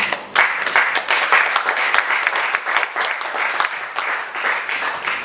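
A church congregation claps and applauds during a French-language worship service, with dense, steady, fairly close clapping and some cheering filling the whole stretch without letup.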